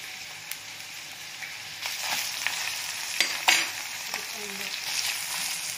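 Salted onions frying in a pan on a medium flame for a non-veg gravy, a steady hissing sizzle with scattered stirring scrapes and a couple of louder clacks midway, close up, no voices.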